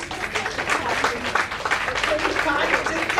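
Audience applause at a Women's Day celebration, a dense steady patter of clapping filling the hall for several seconds at even strength, with voices mixed in.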